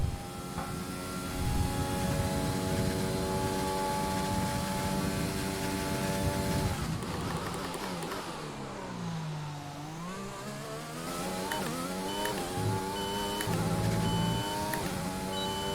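An F1 car's engine screams through a hot lap of the Bahrain circuit in a racing video game, a loud, steady high-pitched whine that drops and climbs again as it brakes and accelerates through corners.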